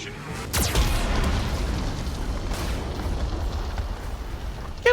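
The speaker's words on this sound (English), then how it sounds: "Warning, Geth cannon is locking on our location." A Geth cannon fires in Mass Effect 2 Legendary Edition: one heavy, loud boom strikes near the start, then a long rolling rumble fades out, with a brief sharp sound at the very end.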